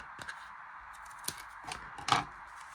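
A few quiet, close snips of scissors cut through a strip of paper trimmer or tape, spaced apart with faint rustling between cuts.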